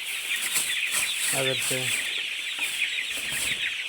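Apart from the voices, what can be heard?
chickens clucking in a poultry shed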